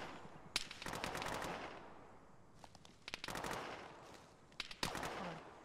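Automatic gunfire in a military combat game played by an air cavalry squad, with several distinct bursts of machine-gun fire in quick, clustered volleys separated by short pauses, moderately distant and fairly faint.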